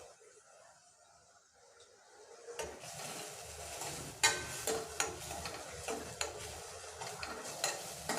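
Ingredients with asafoetida sautéed in a pan while making rasam, starting quiet, then a steady sizzle with repeated stirring scrapes and clinks of a utensil against the pan, close and moderately loud.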